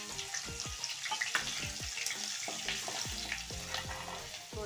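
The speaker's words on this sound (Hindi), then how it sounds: "अब हम इसमें डालेंगे हरी मिर्च का तड़का।" Steady frying sizzle crackles as green chilies hit hot oil with cumin, with repeated stirring scrapes and clinks of a utensil against the pan throughout.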